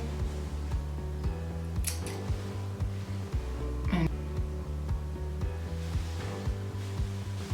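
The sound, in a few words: scissors cutting natural hair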